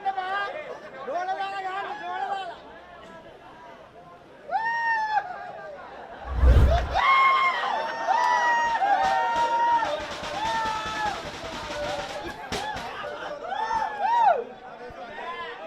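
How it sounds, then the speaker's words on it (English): A rugby crowd at the Kandy SC versus Air Force SC inter-club league match chatters and murmurs steadily in the stands, with a commentator talking over the top throughout. "the crowd are enjoying every moment of it in these dying stages of the game"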